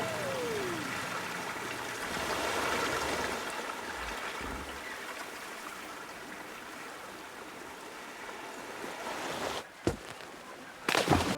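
Rushing water of a water slide in Planet Coaster, a steady faint stream-like wash lasting throughout, broken near the end by a couple of brief sharp knocks.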